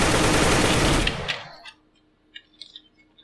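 Loud automatic fire in a blocky Minecraft take on CS:GO, a dense burst that fades after about a second, followed by scattered faint clicks and small game sounds.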